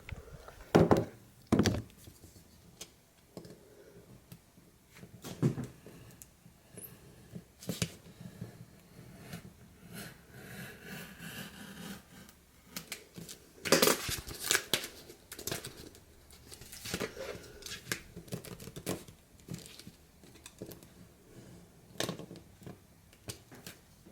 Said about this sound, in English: now I'm cutting through tile, which is not what I would prefer.